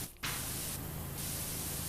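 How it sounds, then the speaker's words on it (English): Pressure washer spraying in the video game PowerWash Simulator 2, a steady hissing jet of water that starts abruptly after a brief quiet moment and runs on continuously, fairly soft, without talk. "Let's see if we can't spray this top here."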